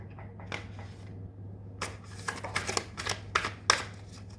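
Tarot cards being shuffled by hand, a series of soft papery riffles and flicks in quick bursts, close and quiet over a steady low hum.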